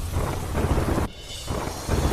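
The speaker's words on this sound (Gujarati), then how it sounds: "બાંગ્લાદેશમાં ધોધમાર વરસાદ થતા જળબંબાકાર" Heavy monsoon downpour with thunder, a loud, dense roar of rain and rumbling that drops away briefly near the middle before surging back just as strong.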